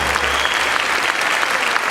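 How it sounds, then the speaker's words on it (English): Applause from an audience at a music event, a dense, steady wash of many hands clapping throughout, loud and continuous without a break. "Another round of applause for these brave gentlemen."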